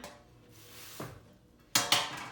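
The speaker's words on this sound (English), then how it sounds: "So I'm going to get a pan." A pizza pan comes out in a small apartment kitchen, with a soft knock and then two sharp metallic clanks close by in an otherwise quiet room.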